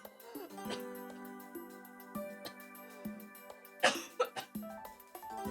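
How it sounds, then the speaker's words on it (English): A fit of coughing, several harsh coughs and throat clearing in quick bursts, rising near the end over a background of soft game music with chiming tones. "And of course, I get a coughing fit."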